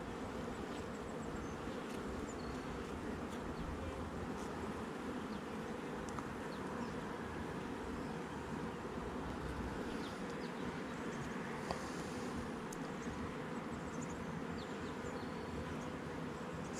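A colony of honey bees in a hive, with frames of capped nectar and hatching brood, hums in a dense, steady buzz that carries at even loudness throughout, with no voices over it.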